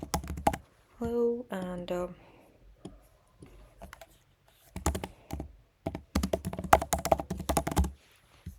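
Typing on a computer keyboard, bursts of quick, close clicking keystrokes in uneven clusters, with a voice speaking briefly near the start.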